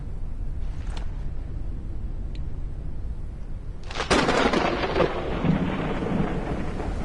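A thunderstorm in the video game Forever Skies, with a steady wash of rain and wind that breaks into a loud, close thunder crash about four seconds in, rumbling on through the rest.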